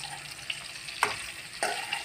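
Bitter gourd pieces frying in oil, a soft continuous sizzle with a couple of sharper crackles and stirring scrapes, close but quiet.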